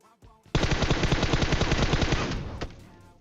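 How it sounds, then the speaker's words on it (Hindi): Sustained rapid automatic gunfire in the PUBG Mobile battle royale game, aimed at a vehicle: a loud, dense burst of rounds lasting about two seconds after a short lead-in, ending with one final shot. "गाड़ी पे गोली गोली चलती है"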